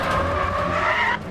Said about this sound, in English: This is just the skids.